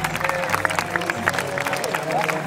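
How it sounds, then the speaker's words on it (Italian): Crowd applause and scattered cheering from an outdoor audience at a medieval combat show at a castle in Breno, a steady, fairly loud patter of many hands with murmuring voices mixed in. "Quindi un buon applauso, graziamo il nostro Michelino."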